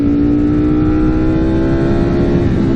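A 2021 Ducati Streetfighter V4S rolling downhill in second gear gives a loud, steady engine drone with a constant tonal hum, no voices over it.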